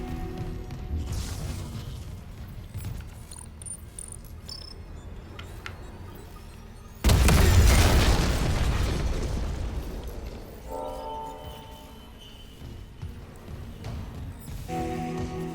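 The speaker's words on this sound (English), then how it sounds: "I wouldn't have looked at that explosion." A loud, close explosion in the survival horror game Dead Space booms suddenly after quiet ambient tones, then rumbles and fades over several seconds before eerie game sounds return.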